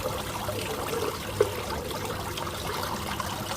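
Water being stirred by hand down inside a bucket, a soft continuous sloshing and trickling with one small knock, faint and close with no talking.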